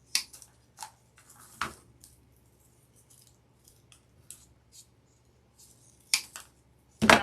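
Greenery stems are snipped in half with scissors for a grapevine decoration, giving a few sharp, close cuts spread across a quiet room, the loudest at the very end.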